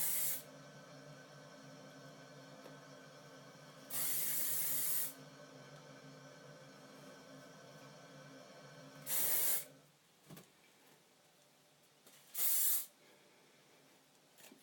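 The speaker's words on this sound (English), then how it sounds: "So I shake it, and then spray it, concentrating it more on the top" Hairspray from a shaken can sprayed onto the top of backcombed hair in four short bursts, each a sharp close hiss lasting about a second, between quiet pauses.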